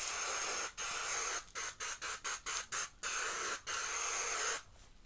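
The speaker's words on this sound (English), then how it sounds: "This is the Kate Somerville Uncomplicated Setting Spray." Kate Somerville Uncomplicated setting spray with SPF 50 misting from a pump bottle: a run of about ten sharp, breathy hissing bursts in quick rhythm, close and alone, ending with one longer spritz.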